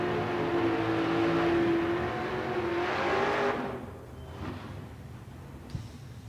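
Door cars launching at a drag strip during a Spring Fling Million race, a loud roaring engine surge with a rising tone that fades quickly into the distance.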